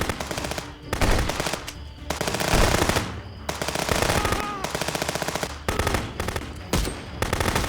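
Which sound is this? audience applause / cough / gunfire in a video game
gunfire in a video game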